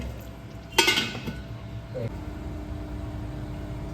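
A metal lid is set down onto a cooking pot of pointed gourd simmering in a yogurt gravy, giving one sharp clink followed by a softer settling knock, close by against a low kitchen hum.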